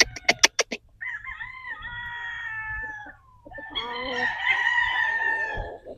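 Roosters crow loudly and close at a chicken farm, two long drawn-out calls following a quick burst of sharp clucks, with other fowl noises faintly behind.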